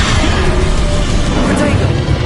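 A Bombarda spell blast in the Hogwarts Legacy video game erupts as a dense, loud, continuous roar of combat noise. A voice may be buried in the din.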